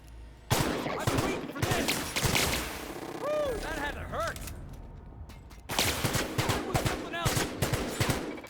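Rapid gunfire from a gun in The Outer Worlds, loud bursts of fast repeated shots that stop briefly and then resume, with other game sounds in the pause.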